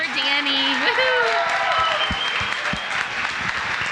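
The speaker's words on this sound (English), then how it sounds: "Round of applause for Danny." Audience claps and cheers for Danny at a live community crowdfunding event, a loud sustained burst of applause with whoops and voices mixed in.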